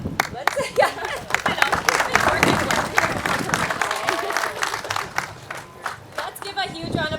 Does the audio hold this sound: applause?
yes